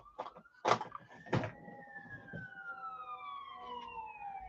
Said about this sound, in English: Now, that's another fire truck going that way.